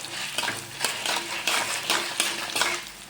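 Garlic, curry leaves and pepper roast in hot oil for kuzhambu. A close, busy sizzle is broken by rhythmic stirring scrapes about every half second, with no talking.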